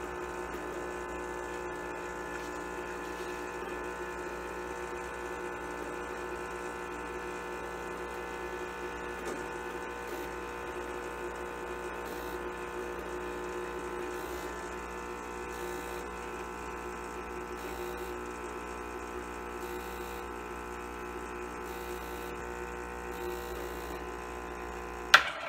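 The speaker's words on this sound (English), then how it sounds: "That ran for a bit over a minute and extracted almost 40 grams of espresso." An espresso machine extracting a shot, giving a steady mechanical pump hum with faint ratcheting texture that runs unbroken for the whole stretch, ending in a brief sharp click.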